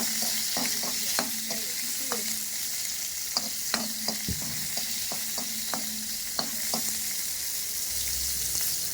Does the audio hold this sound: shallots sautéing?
yes